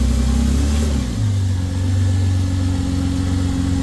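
A Holden Commodore engine runs steadily while the car is being moved, a loud, close, low rumble whose pitch shifts slightly about a second in, then settles into an even idle-like drone with no voices.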